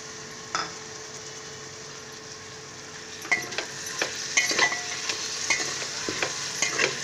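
Chopped tomato fries in masala for a mutton masala gravy, with a low sizzle under sharp spoon scrapes and clatters against the pan that grow busier in the second half. Nobody speaks.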